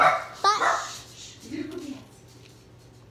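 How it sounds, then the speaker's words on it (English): A dog barks indoors, a couple of sharp yips close by at the start, with a person talking over it. "that's my dog."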